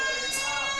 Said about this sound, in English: Sirens mean one thing